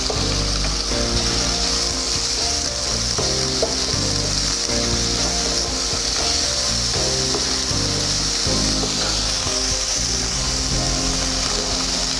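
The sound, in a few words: chicken sautéing in oil in a frying pan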